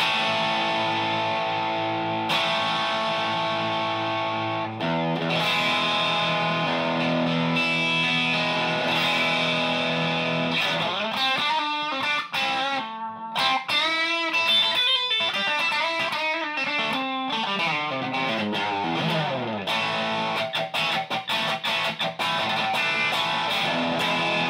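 A Fender Japan Stratocaster electric guitar plays through a distortion effects pedal into an amp with every knob at noon. Sustained, compressed, distorted chords and single notes ring loud and continuous with no talking.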